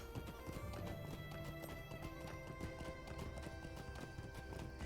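Steady clopping of horse hooves in Lord of the Rings Online over a busy, continuous game soundtrack with music, occasional whinny-like tones mixed in.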